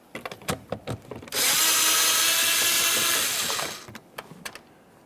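A power tool spins out a 10mm mounting bolt inside the door of a 2009–2014 Nissan Maxima during rear window regulator work: clicks and handling knocks, then a loud steady whir of about two and a half seconds, then more clicking.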